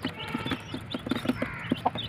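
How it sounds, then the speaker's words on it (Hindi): A rooster's soft, rapid clucks come in short, uneven pulses, close by, with a faint higher note near the end. "ये देखिए भाई मुर्गा आ रहा है"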